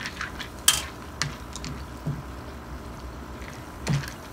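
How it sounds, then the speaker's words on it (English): A spoon stirs yellow mustard into milk in a cooking pot, giving a few faint, scattered metallic clinks and scrapes, quiet and unaccompanied by speech. "we'll stir that around"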